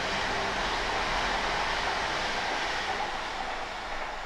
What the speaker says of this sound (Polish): Jadący pociąg.